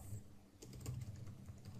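Faint clicking of a computer keyboard as code is typed into a text editor, a quiet, steady patter of keystrokes over low background hum.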